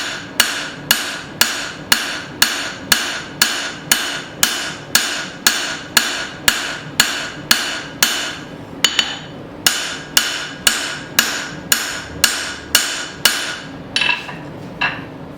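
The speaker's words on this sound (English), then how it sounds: "Forging with that 2-pound hammer," A 2-pound hammer pounds a hot tomahawk head on an anvil in a steady, rapid series of sharp ringing blows, about two per second, with a brief pause partway through before the strikes resume.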